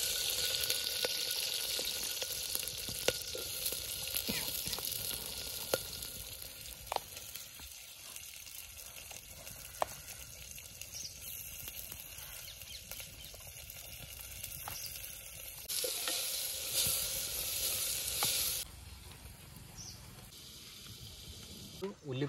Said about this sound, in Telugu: ఉల్లిపాయలు ఫ్రై అయిపోయినాయి.